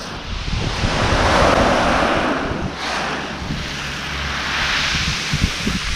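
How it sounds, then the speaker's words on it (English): Waves washing up and retreating over a rocky pebble beach at Konyaaltı in Antalya, Türkiye, with a steady surf roar, wind noise on the microphone and scattered clicks of rattling stones near the end. "it also creates a fascinating rattling sound when the waves retreat."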